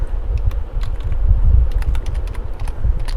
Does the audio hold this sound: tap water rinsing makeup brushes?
no